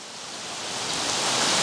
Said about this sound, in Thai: เสียงของธรรมชาตินี่แหละทำให้จิตนี้สงบได้ง่ายขึ้นบรรยากาศฝนตก